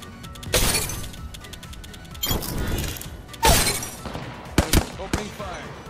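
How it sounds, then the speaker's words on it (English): Grenade blasts and bursts of gunfire in the battle royale game Apex Legends on Kings Canyon, several sharp loud cracks and shattering bangs spread across the moment, with rumbling game noise between them. "Threw my grenade out. Throwing through my grenade."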